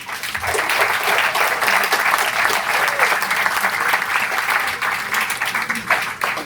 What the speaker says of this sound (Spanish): solicitamos un caluroso aplauso de bienvenida